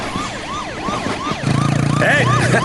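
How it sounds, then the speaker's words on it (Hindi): A police siren wails in repeated rising and falling sweeps, loud and close, with a low engine hum joining partway through. "ये पुलिस सायरन सुनाई दे रहा है।"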